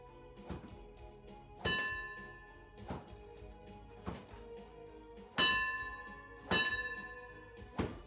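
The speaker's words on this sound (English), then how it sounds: "Every once in a while, I catch the gong with my backhand." A long whip swung in practice, its backhand now and then catching a hanging gong: sharp cracks and thunks at irregular intervals, some ringing out with a bright metallic shimmer that lingers and fades, close and fairly loud.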